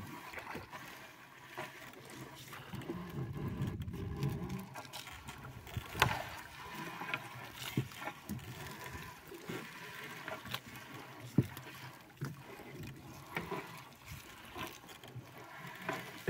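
A fishing outrigger boat at sea, with a steady low hum and rush of water against the hull, occasional small splashes and knocks, moderately loud and continuous throughout.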